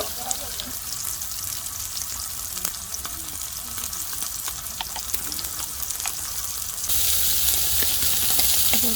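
Beef steak and butter sizzle loudly in a pan at a winter campsite, a constant close hiss with occasional crackles that brightens and intensifies toward the end.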